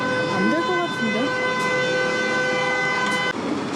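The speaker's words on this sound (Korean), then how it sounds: "28번 트램 우리 첫날 타려다고 했는데 못 탔던 그 트램." Lisbon's number 28 tram on a busy city street, with a steady humming and whining of the tram under street noise, close by and loud, and voices chattering nearby.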